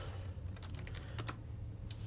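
Keystrokes on a computer keyboard during a live PowerShell coding demo: a quick run of light clicks followed by a few sharper taps, close to the mic over a steady low hum, with no talking.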